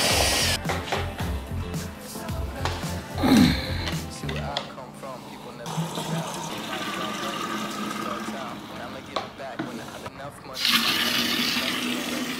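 Water pours into a mixing container holding ferrous sulfate and ammonium sulfate for liquid lawn fertilizer, a rushing, splashing flow with intermittent clunks and shifts, loud and close, without talk.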